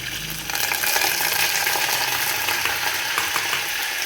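Curry leaves added to a chilli tempering sizzle in hot oil for a carrot and raw mango chutney, a dense, steady crackle that swells after the first half second and holds close and loud.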